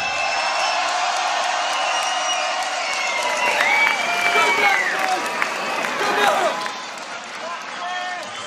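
A crowd at a beatbox battle at the Swiss Beatbox GBB 2018 event claps and cheers loudly, a dense wash of applause and whoops with voices mixed in, then easing slightly near the end.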